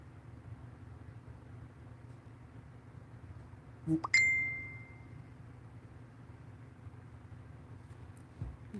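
A single bright notification ding rings out midway and trails off, with a faint knock just before it, over quiet steady background hiss.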